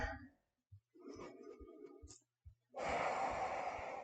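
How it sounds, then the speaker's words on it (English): During a home yoga session, close, quiet breaths come through as soft inhales and exhales, a few short nasal puffs followed by a longer, fuller breath toward the end. "Take some breaths"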